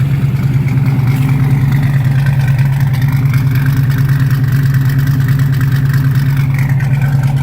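A Chevrolet Monte Carlo with a newly installed V8 crate engine runs steadily, a loud, deep, continuous rumble with a low throb and no pauses, heard close up without talk.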